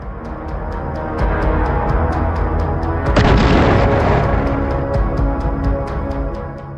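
A loud, deep boom from an FPV drone strike on the frontline bursts out over a rumbling background, followed by a sustained roar that slowly fades.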